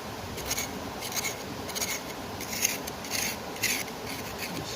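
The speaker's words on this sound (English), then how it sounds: "taking this tool here and just really digging down in this crack" A metal tool rasps gold-bearing dirt out of a crack in rock, giving a close series of short, gritty scraping strokes at an uneven rhythm with quiet gaps between them. No one speaks.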